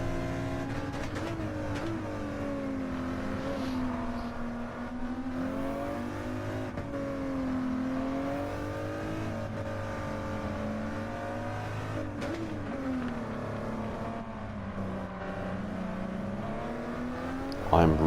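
Race car engines at Autopolis drone steadily and loudly through the whole stretch, pitch rising and dipping with gear changes as two cars run close side by side, with faint talk riding over the engine noise.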